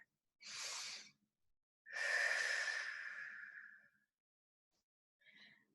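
Deep breaths in an exercise class: a short inhale, a long, drawn-out exhale, then a faint, brief breath, all close and quiet with silence between them.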